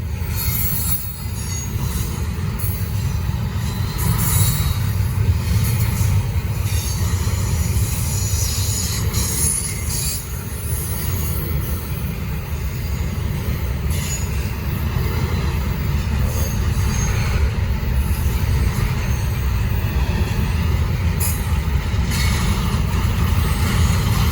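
A Norfolk Southern freight train on the Charlotte District rolls steadily past, its wheels squealing high above a continuous low rumble, loud and close throughout with no voices.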